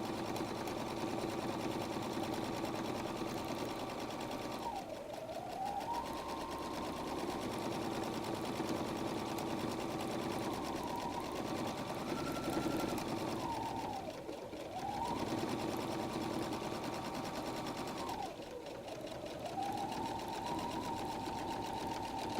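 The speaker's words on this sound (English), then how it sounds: "you're going to stitch up the other side of the flap" A sewing machine stitches up the side of a messenger bag flap, running in a steady close whir that slows and dips briefly at a few points before picking back up to full speed.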